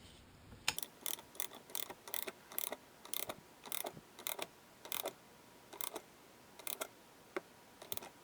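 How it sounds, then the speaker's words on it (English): A torque wrench clicks in short regular bursts while tightening bolts on a Kawasaki ZX10R engine being built up for a turbocharger, about a dozen crisp ratcheting clicks close by with no talking. "And torque them down to 18 foot-pounds."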